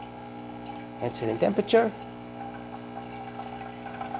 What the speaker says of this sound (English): we have a nice steady stream coming out of the machine, looking great